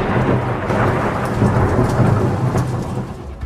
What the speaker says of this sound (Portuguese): O céu ribombou e uma tempestade de ventania se formou, arrancando árvores inteiras.